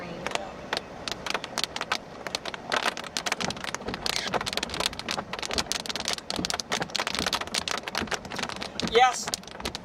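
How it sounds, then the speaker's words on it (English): Heavy rain falls steadily during a severe thunderstorm in Oklahoma, a dense, continuous patter with sharp crackling impacts close by, loud throughout with a brief rising whistle-like sound near the end. "Here comes the rain."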